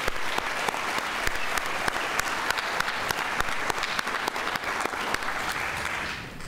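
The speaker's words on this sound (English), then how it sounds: "Please give them a round of applause." Audience applause at a 2024 junior science fair awards ceremony, a dense, steady wash of many hands clapping that holds strong for several seconds before easing slightly at the end.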